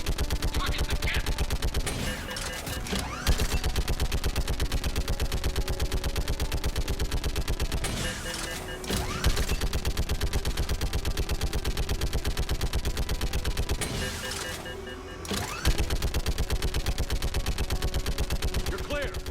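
Rapid automatic gunfire in Mass Effect 3 combat against the Geth, sustained bursts of dense repeated shots broken by brief pauses, fairly steady and moderately loud with other battle noise mixed in.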